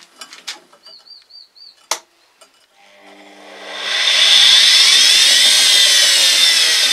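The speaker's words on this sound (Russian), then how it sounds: "Поэтому по 7-м отверстиям посверлю." A few light clicks and taps, then a drill press, powered by a washing machine motor, whines up to full speed and grinds steadily and loudly through a metal plate.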